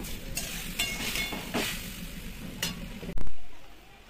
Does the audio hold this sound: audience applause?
no